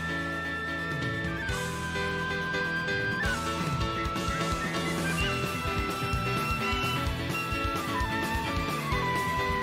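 Song from the video game Pentiment, played as a steady, full musical passage with a melodic lead line over a dense accompaniment, with no talking.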